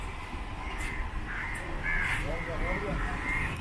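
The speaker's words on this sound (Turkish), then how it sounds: "Ne kadar çok karga var burada ya." Crows cawing in Colombo, Sri Lanka, a flock giving repeated harsh caws at moderate distance, with talking and street background underneath.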